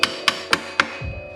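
A hammer taps a bolt through a motorcycle's chain and sprocket assembly, four sharp metallic knocks spaced evenly about a quarter second apart, close and fairly loud, then a faint low shuffle.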